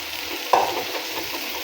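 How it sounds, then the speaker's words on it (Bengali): Bitter gourd frying with shrimp sizzles softly in a pan, and a single spatula stir scrapes through it, brief and close, before the low frying hiss carries on. "এই তো উস্তা দিয়ে আমি একবার নাড়া দিয়ে দিয়েছি, এবার আবার নাড়া দিচ্ছি"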